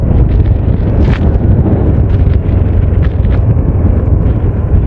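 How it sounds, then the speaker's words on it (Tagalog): Loud, continuous wind rumble pounds the microphone without pause, a dense low roar with no voices. "So, malakas ang hangin."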